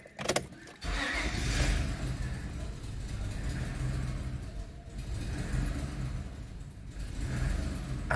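A Honda pickup truck engine with a faulty MAP sensor idles continuously up close, a low rumbling drone that wavers and dips unevenly, following a brief clatter at the start.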